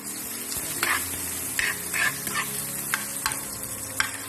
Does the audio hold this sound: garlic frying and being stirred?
yes